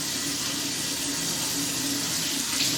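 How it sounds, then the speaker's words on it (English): Hot water running from a sink tap into a container for cleaning brass, a steady, close, full rush of flowing water with no voices. "along with some hot water from the sink."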